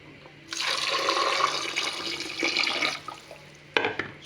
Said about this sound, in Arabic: وغنضيفو لها الماء.